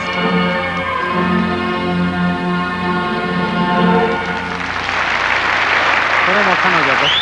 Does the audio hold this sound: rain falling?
no